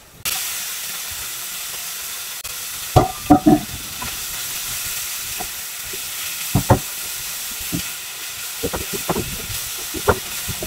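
Food with sesame oil, salt, pepper and garlic sizzles in a hot dolsot stone pot under a steady frying hiss, while a utensil stirs and scrapes against it in short clusters of knocks.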